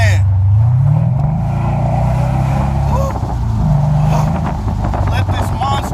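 Heavy Mercedes-Benz CL coupe accelerating, a steady low engine drone that swells and eases across the clip, heard from inside the car beneath wind rush, with someone talking over it.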